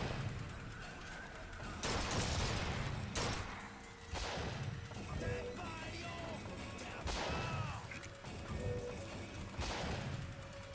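Sniper rifle shots ring out in BioShock Infinite, arriving as loud, sharp cracks roughly every one to two seconds over a dense game background with no talking.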